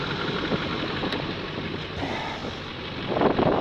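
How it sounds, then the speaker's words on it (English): Wind buffets the microphone in a constant loud rush, with gusts swelling toward the end; no one speaks. "Kind of windy out here"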